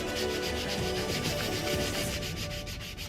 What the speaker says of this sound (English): I'm just going to start by just sanding all three parts with a 100 grit